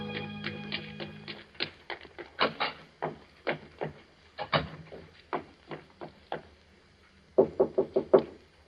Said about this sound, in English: I waited for her knock.